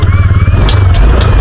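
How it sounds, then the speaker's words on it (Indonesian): A brand-new motorcycle's engine runs with a rattling noise at close range, its low rumble steady and rising in loudness over the short stretch. "Isira na yung motor natin"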